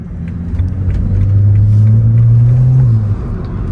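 A BMW E9x with an N55 engine fitted with an ARM Motorsports short intake pulls hard under acceleration, a loud, steady engine drone rising in pitch from inside the car over a rumbling cabin background.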